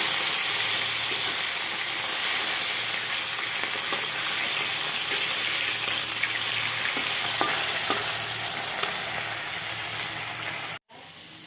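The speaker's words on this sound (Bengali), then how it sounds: "শিম বেগুন আলু সব দিয়ে এই যে ভাজা ভাজা করছি" Fish frying alongside beans, eggplant and potatoes in a pan gives a strong, steady sizzle and hiss with light occasional stirring clicks, continuous until a sudden cut near the end.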